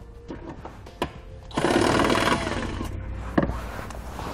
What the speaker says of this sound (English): There's a plastic nut located down in this compartment. We're going to remove that with a 16 millimeter socket.